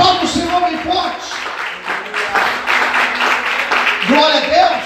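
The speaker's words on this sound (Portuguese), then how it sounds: "Aplaude o Senhor bem forte." A church congregation claps loudly during a sermon, a dense burst of applause mixed with a voice speaking or calling out over it, the clapping swelling through the middle and continuing under the talk.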